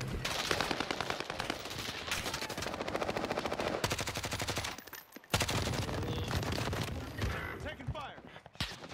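Gunfire in the battle royale game Warzone: sustained rattling automatic bursts and scattered shots, fairly close, running almost continuously with a short gap midway, mixed with game noise and faint voices.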